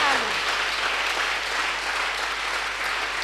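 Congregation at a French-language church worship service applauding the King of Kings, steady sustained clapping filling the room alone without pause, with no break or distinct voice standing out.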